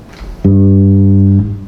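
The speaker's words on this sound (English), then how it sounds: "When I play it plugged in, it would sound like this." A single sustained electric bass note rings out loud and clean for about a second, then cuts off, with faint noise before and after.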